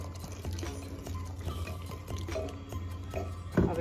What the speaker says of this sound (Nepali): पानी थप्दैछु